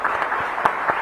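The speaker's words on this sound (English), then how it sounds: "Please join me in applauding the esteemed guests for the contribution." An audience applauds panel guests at the Raisina Dialogue 2023 foreign ministers' discussion, a dense, steady wash of clapping with a few sharper claps standing out.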